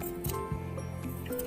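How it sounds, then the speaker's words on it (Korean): Scissors trimming the looped yarn surface of a handmade rug, a few close soft snips and clicks over a steady background hum. "이 표면을 예쁘게 가위로 다듬어주는 겁니다"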